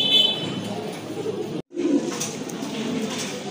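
A pair of Afshan grizzle pigeons cooing softly among ambient room noise, with low murmuring coos over a steady background and a brief dropout midway.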